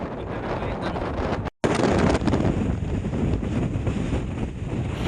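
Strong wind roars loudly and continuously across the microphone at Mahon Falls in the Comeragh Mountains, Ireland, buffeting it with a dense rush of noise and a brief dropout near the start.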